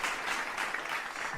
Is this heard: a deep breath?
no